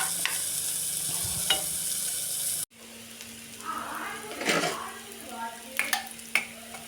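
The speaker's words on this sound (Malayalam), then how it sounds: "സ്പൂൺ വെളിച്ചെണ്ണ ഒഴിച്ച് കറിവേപ്പില ഇട്ട് കൊടുക്കാം." Coconut oil and curry leaves go into hot avial, and a soft sizzle and crackle starts after a short break, moderately close, with a few stirring sounds and no talk.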